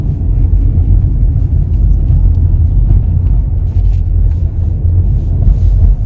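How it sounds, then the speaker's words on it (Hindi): Heavy road traffic rumbles steadily from inside a car, a loud continuous low drone of engines and tyres with no clear individual vehicles standing out. "बहुत जबरदस्त ट्रैफिक हो रखा है अभी।"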